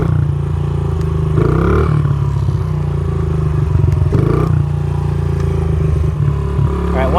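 A dirt bike engine with a carburetor air or fuel screw being adjusted idles loud and close with a steady rumble, its revs rising and falling a few times and hanging instead of settling back down.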